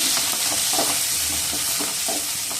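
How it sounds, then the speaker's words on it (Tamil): Onion, tomato and green chili sauté in hot oil with a dense, close, continuous sizzle and soft stirring scrapes that swell and fade now and then. "எண்ணெய் காஞ்சோடனே ஒரு வெங்காயம், ஒரு தக்காளி, ஒரு பச்சை மிளகாய் போட்டு நல்லா வதக்கிக்கணும்"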